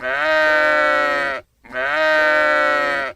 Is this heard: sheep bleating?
yes